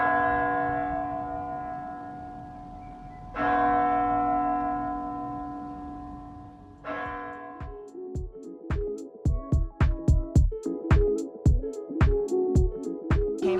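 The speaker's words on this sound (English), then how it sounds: "hopefully we'll hear it chiming" Church bells of Hallgrímskirkja in Reykjavik chime outdoors. A few long, ringing strokes come first, spaced several seconds apart. Then a rapid, steady sequence of bright strikes follows, moderately loud and echoing, with no talking.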